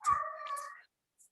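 A pet cat gives a single clear meow, close and fairly loud, lasting under a second before quiet.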